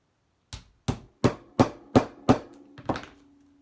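A tool is hammered through paper to punch holes for a three-hole pamphlet stitch, giving about seven sharp, evenly spaced knocks that are close and clear, each with a short ringing tail.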